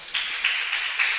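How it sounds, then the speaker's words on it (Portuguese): A church congregation applauding, a steady, fairly even patter of many hands clapping at moderate distance, continuous throughout with slight swells. "Dê um aplauso ao Senhor."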